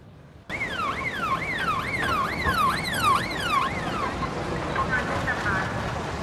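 A loud siren repeatedly sweeps up and down for a few seconds, then cuts off, leaving a noisy background with faint voices.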